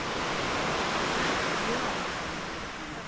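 Sea waves wash against the beach at Puerto de Soller, Mallorca, as a steady, broad hiss of surf that holds throughout and eases slightly toward the end.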